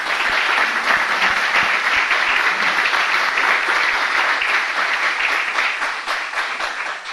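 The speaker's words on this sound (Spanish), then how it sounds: "Les pido un aplauso, por favor," Steady, dense audience applause fills a hall for several seconds at a tribute event for Maestra Vargas Quintana, loud and continuous before tapering slightly at the end.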